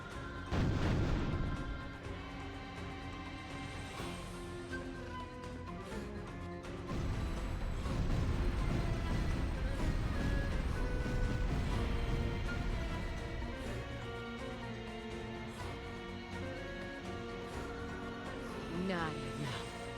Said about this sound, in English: First volley, fire!